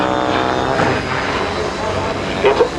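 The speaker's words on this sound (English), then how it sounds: "multirotor vehicle that's in the air to the east, hovering above the Bell helicopter there." A multirotor drone hovers in the air at an outdoor flying event with helicopters, its steady motor drone continuous and fairly loud, with brief bumps near the end.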